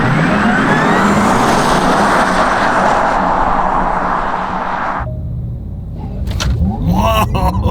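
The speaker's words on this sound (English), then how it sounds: "So an electric car that actually has a gear change." A 2021 Porsche Taycan electric car on a launch-control start gives a loud, sustained rising whine and road roar that cuts off sharply partway through as the gearbox shifts, followed by quieter rumble and excited voices.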